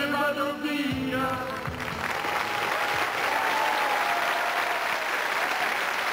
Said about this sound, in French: Tout le monde applaudit très fort